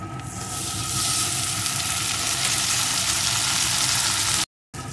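Chopped chilli and tomato hitting hot fish oil with fried potato in a pan, a steady loud sizzle that swells after a moment and holds, then cuts off briefly near the end.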